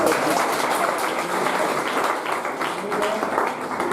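Loud, dense applause from the audience at a student awards ceremony for a coaching institute in Bundi, continuous and close, with some crowd chatter mixed in.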